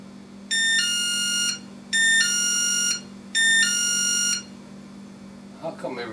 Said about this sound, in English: How come every time I'm making a video that driveway alarm's got to go off?